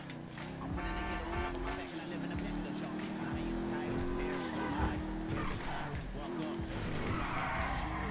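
A car horn in Grand Theft Auto V honks repeatedly over a driving car's engine on the streets of Los Santos, sounding in short pulses and longer tones while someone talks over the game.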